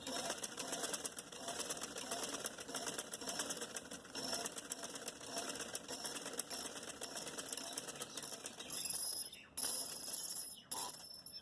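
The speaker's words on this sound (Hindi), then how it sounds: "इस तरीके से हमने सिलाई कर ली है" Fabric being stitched on a sewing machine while making a trouser, a close continuous mechanical whirr with rattling clicks, briefly pausing near the end before running again.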